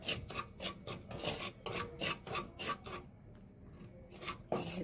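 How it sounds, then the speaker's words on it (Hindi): Semolina dry-roasting in a pan for baby food, stirred in steady rhythmic scraping strokes, close and clear with no voices, briefly pausing before resuming. "बेबी फूड के लिए हम सूजी को भूनना शुरू करते हैं"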